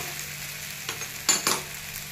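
Tapioca pearls sauté in a pan for sabudana khichdi, giving a steady close sizzle with a few sharper scraping stirs near the middle and no talking.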